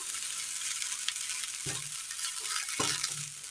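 Grated coconut roasts in a pan with a steady, close frying hiss. A spoon scrapes and stirs through it, with a couple of heavier knocks against the pan.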